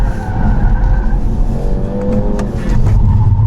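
A BMW sedan, likely an M Sport model, is driven hard around a race track, its engine roaring steadily with a tyre squeal while it brakes heavily, loud and close with no talk.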